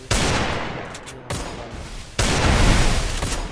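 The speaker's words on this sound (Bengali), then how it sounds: "গুলি বেরোচ্ছে" Bursts of gunfire from an MP-40 in a shooting video game, three loud, close volleys of rapid shots, the last one the longest.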